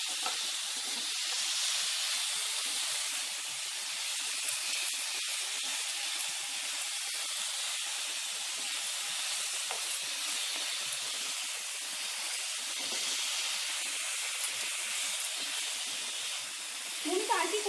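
Ingredients for a chicken egg drop soup fry lightly in a pan with a continuous soft hiss and sizzle, fairly quiet and steady from start to finish.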